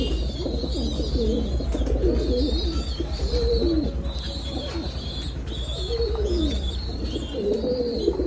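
Pet pigeons, including young mismarked birds, coo repeatedly up close in a winter loft, a steady run of soft, throaty calls with no talking.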